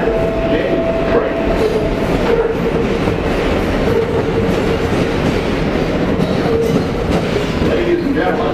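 An R142A subway train on New York's 6 line rumbles loudly and steadily throughout, with continuous wheel and track noise, a faint clickety-clack and occasional squealing tones.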